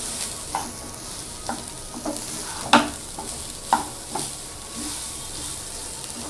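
Coriander rice being stirred in a hot pan on low heat makes a steady sizzle, broken by several sharp scraping strokes of the spoon at irregular intervals, close and fairly loud.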